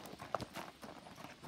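A bay standardbred gelding shod on all four hooves, slightly lame behind, walks on a hard surface, its faint clip-clop hoofbeats coming at a steady pace from some distance.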